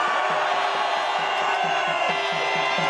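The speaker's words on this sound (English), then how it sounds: "cheer now." A crowd at an outdoor anti-lockdown protest in Manchester cheers and whoops on cue, a steady dense roar of many voices heard from within the gathering.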